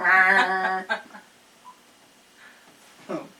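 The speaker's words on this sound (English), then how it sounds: "I hear the ringtone." A short burst of electronic telephone tones rings out near and clear, then fades into quiet with faint background sounds.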